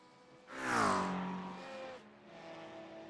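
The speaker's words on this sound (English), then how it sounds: "Kurt just struggling just a little bit under braking with the looseness of that Porsche" A loose-handling Porsche race car at Road America, its engine note swelling loudly then winding down in falling pitch under braking, with a second, quieter engine sound continuing afterward.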